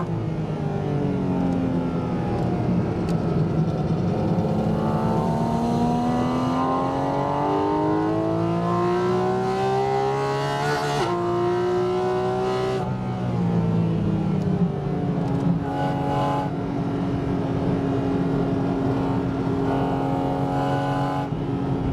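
The combustion engine of a Porsche Cayman GT4 RS howls through a track lap, rising through the revs repeatedly with shifts and brief lifts, loud and close from onboard, no talking.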